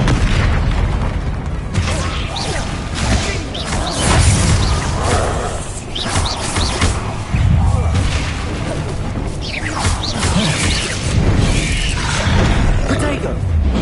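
Confringo fire spells burst in Hogwarts Legacy combat, a dense run of booming blasts, crashes and whooshes that crowd one another almost without pause, loud throughout.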